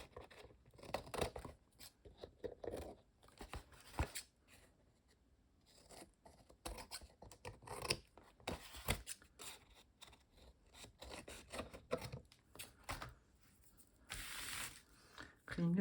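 Scissors snipping around the edges of a leaf gelli print paper collage, a series of close, crisp cuts and rasping paper sounds with irregular spacing, with a voice speaking at times between the snips.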